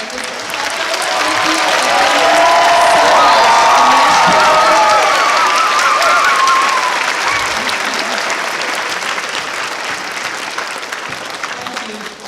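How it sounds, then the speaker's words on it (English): An audience at a school all-county chorus concert breaks into sustained applause with scattered cheers and whoops, swelling loud and full before slowly tapering over about twelve seconds. "let's give one more round of applause to Dr. Gravel and Mr."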